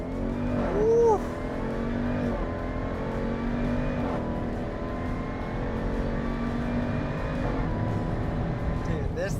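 1986 Jeep Wagoneer fitted with a TrackHawk engine pulls hard under acceleration, a loud rising roar heard from inside the cabin, with a brief tire squeal early on and people talking over it.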